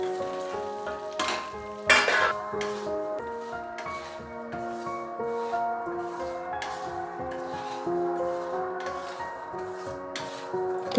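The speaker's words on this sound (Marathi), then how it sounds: "ते चांगले मिक्स करू. ते रवा बॉल्स टाकून घेऊ." A spoon stirs rava balls coated in spices in a pan, making soft repeated scraping and rubbing with a couple of sharper knocks against the pan over a steady low sizzle.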